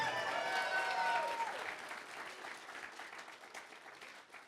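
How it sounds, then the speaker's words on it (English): Audience applause at a charity fundraiser closing ceremony, a dense wash of clapping with a few tonal squeals early on, gradually tapering off over several seconds. "when I say money, you applaud, right?"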